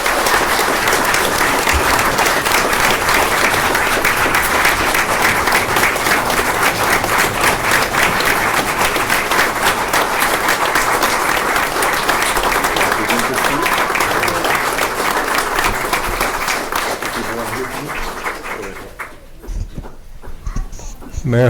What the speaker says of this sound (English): Let's give him a doctor a round of applause.